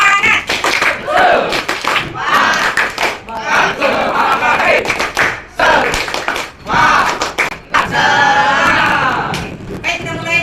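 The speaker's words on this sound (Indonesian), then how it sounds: "Nah, tepuk semangat." A school classroom of ninth-grade students chants and claps together in a rhythmic spirit cheer, the crowd of voices loud and close with bursts of clapping in steady patterns throughout.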